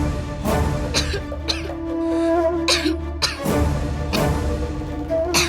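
A woman coughs repeatedly in a series of harsh, close bursts, about five or six fits spread unevenly, with a faint tonal background underneath.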